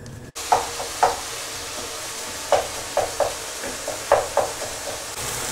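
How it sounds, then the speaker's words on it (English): Minced lamb fries in a pan with a soft, steady sizzle, punctuated by a few short scraping stirs spaced irregularly, close and alone after a brief knock at the start. "While the aubergines are grilling, I'm going to fry off the minced lamb, onions and garlic"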